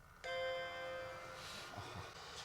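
A Macintosh II computer sounds its startup chime, a single bright harmonic tone that rings out and slowly fades, heard close up with faint room noise and no talk.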